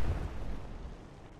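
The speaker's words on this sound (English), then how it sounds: "Secondary explosion. Found something hot and combustible on the deck" A deep, booming secondary explosion on a ship's deck in the naval game Atlantic Fleet, heavy low rumble right at the start that slowly fades out over a second and a half.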